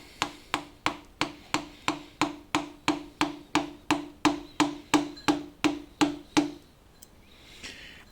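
Steady hammering drives a sharp point through a caked-on engine gasket on an HJ Holden engine during teardown, about twenty evenly spaced metallic taps close up, then stopping.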